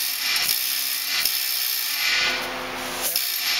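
A die being locked tight into a planishing hammer, with metallic ratcheting and rubbing clicks in short bursts, close and fairly steady.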